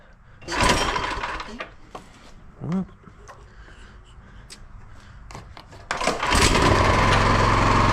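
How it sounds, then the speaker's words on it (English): A repaired snowblower that previously would not start: brief bursts of engine noise, then the small engine catches and settles into a loud, continuous running drone, with someone speaking in between. "His snowblower will be fixed."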